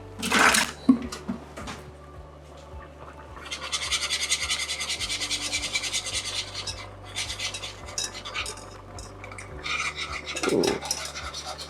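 A whisk scrapes and stirs rapidly through caramel sauce in a pan, a steady close scratchy rattle running for several seconds, with a few louder clanks at the start and end.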